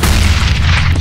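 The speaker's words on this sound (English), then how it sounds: "Grenade!" A grenade explodes in Counter-Strike: Global Offensive, a loud, close, dense boom lasting about a second with heavy low-end rumble.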